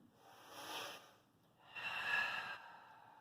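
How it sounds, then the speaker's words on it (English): Slow, deep breathing during a yoga hip stretch: two long, soft, hissy breaths close to the mic, the second fuller and longer, with no talking. "Take a couple more breaths here."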